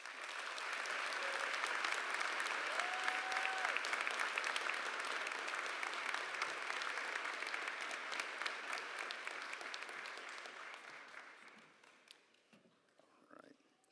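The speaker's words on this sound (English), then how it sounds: "I'll add my applause to that." Audience applause fills a theatre at a college graduate commencement ceremony, a dense, steady wash of clapping that holds for about eleven seconds before thinning out into a few scattered claps.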